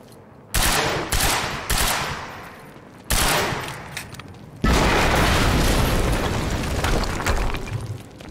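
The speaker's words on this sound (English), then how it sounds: "HQ, we just heard an explosion near the harvesting perimeter." Loud explosions and heavy gunfire in the video game Quantum Break, with several separate booming bursts in the first few seconds, then a sustained roaring blast that continues to the end, with no talk.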